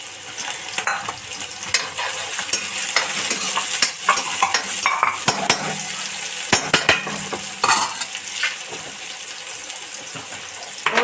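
Onions and green chillies fry in a pan with a busy, crackling sizzle, broken by frequent clattering stirs and scraping that rise and fall across the stretch.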